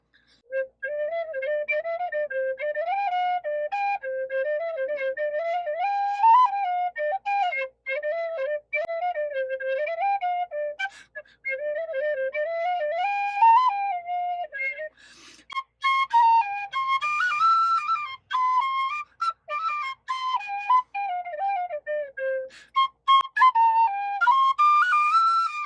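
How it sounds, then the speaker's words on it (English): A penny whistle plays a traditional Irish tune, a clear, close, bright melody of quick ornamented notes with brief pauses for breath. It breaks off midway and then starts again, played solo without talk. "I'm trying to teach myself the humble penny whistle"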